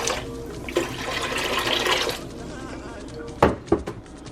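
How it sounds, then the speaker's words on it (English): Water pours and splashes into a cooking pot for a king crab and snail vegetable soup, a fairly soft gush that tapers off, followed by a couple of sharp knocks near the end. "I'm gonna start with adding some water in the pot."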